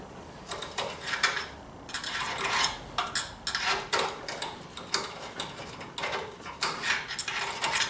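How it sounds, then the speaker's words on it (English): A reamer scrapes and cleans out a metal Ludwig drum stand part, producing repeated close ratcheting clicks and grinding scrapes in uneven bursts, with no talking. "I ended up finding my reamer and just cleaning this guy out."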